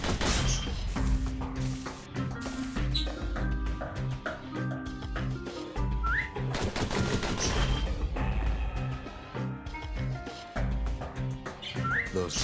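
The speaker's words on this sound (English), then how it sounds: "Those pistols could spit out rounds just as quick as you could pull the trigger" Rapid pistol gunfire in the video game Bastion, dense repeated shots over steady background music with chirping game effects.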